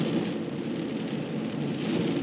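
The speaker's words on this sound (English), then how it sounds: "we wouldn't be able to enjoy it anyway with the rain" Steady rain heard from inside a vehicle driving toward the Guatemala border, a constant close wash of drumming drops with no pauses and no voices.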